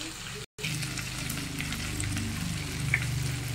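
Whole garam masala spices fry in hot fat in a pan, a steady close sizzle with small crackles and pops, while a low voice murmurs faintly underneath.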